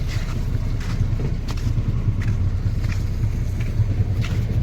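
A fishing boat engine drones steadily with a low, rumbling hum, joined by wind and faint water noise throughout.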